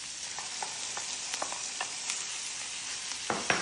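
Chicken pieces fry in melted butter with a ginger and garlic mix, giving a close, steady sizzle with faint crackles and small pops throughout.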